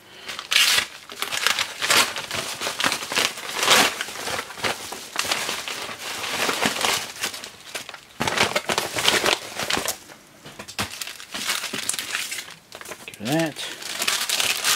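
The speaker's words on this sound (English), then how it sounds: "paper bag inside of a bag, inside a plastic bag, inside a paper bag, inside a bag." Paper and plastic bag packaging being unwrapped from a mailbag parcel of RS electronic components, with loud, continuous crinkling and tearing close by while someone talks over it.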